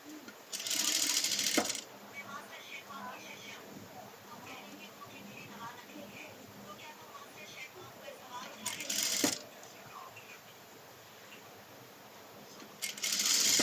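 A sewing machine stitches the neckline of a maxi dress in three loud, fast bursts of rapid mechanical whirring, with quiet handling and soft talk in between.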